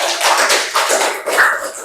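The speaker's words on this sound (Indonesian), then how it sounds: "Tepuk tangan buat kita semua." A classroom group claps hands in a short, brisk burst of applause, several loud close claps in quick succession fading at the end.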